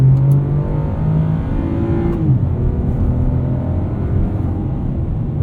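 The V6 engine of a 2021 Chevrolet Colorado ZR2 pickup revs and pulls hard, sounding industrial, its tone climbing then dropping at a gear change before droning on steadily, loud and close.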